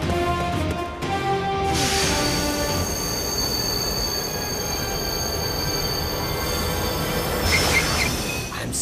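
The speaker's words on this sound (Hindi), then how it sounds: "I'm sorry शिवा, ट्रेन इससे आगे नहीं जा सकती।" A train runs on rails with steady rumbling and loud, sustained wheel squeal throughout, close and continuous with no talk.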